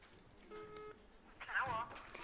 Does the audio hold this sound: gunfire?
no